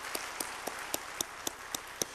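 Congregation in a Korean church applauding the choir after a hymn, a soft, steady wash of clapping with a few sharper claps standing out, heard from a distance at low volume.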